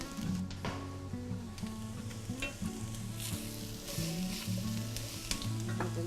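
Cauliflower hits a hot pan with olive oil and sizzles steadily, a crackling fry punctuated by soft stirring clicks and taps, close up and with no voices.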